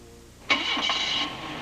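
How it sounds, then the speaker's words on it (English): A 1983 Dodge car engine cranks and catches, a brief starter whir that jumps into a running engine and settles into a steady idle, heard close and alone. "Start the engine"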